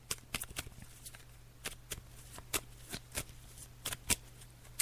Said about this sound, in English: So as you can hear, I'm just shuffling them again.